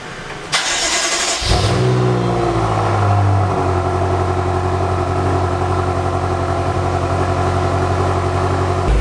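A BMW F10 M5 cold starts up close: a short starter crank catches into a loud flare of revs, then the engine eases down and settles into a steady, high, droning idle.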